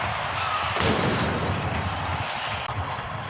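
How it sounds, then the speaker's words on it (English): A loud booming cannon blast rings out for a Columbus Blue Jackets goal against Toronto at an NHL hockey game over a roaring crowd, with the cheering staying dense and steady throughout. "Fire the cannon, wave the flags here."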